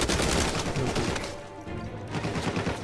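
Gunfire in the video game Uncharted 4, including sniper shots, comes as a dense clatter of overlapping reports and impacts at moderate loudness, easing briefly midway before picking up again.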